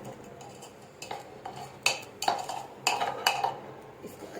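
A spoon stirs chicken marinade with red chili and ginger-garlic paste in a bowl, giving a run of irregular clinks and scrapes against the bowl's side, close and fairly quiet, with no one talking.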